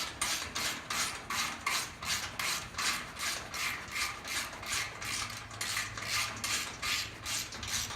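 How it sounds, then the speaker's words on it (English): A ratchet threads a 3/8 bolt into a truck frame during a 1 ton 4wd rear conversion, with a rhythmic repeating ratcheting scrape of roughly two strokes per second, close and steady throughout. "Maybe just take your ratchet, kind of thread in there just a little bit."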